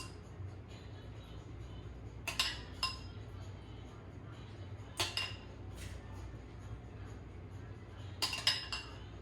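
A spoon scrapes and clinks against a dish while scooping sour cream sauce onto crepes, three brief clusters of clinks over a low, quiet room hum.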